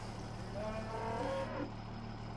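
A single low cow moo from Farming Simulator 17 rises briefly in the middle, soft against a steady ambient hum with no one speaking.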